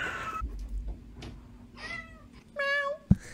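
A cat gives short, high, baby-like meows, two or three quick cries close by, ending with a sharp knock, with no one speaking.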